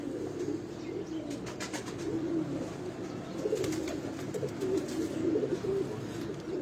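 Pigeons coo in soft, repeated low rolling calls close by, with some light clicking and fluttering sounds mixed in and no one talking.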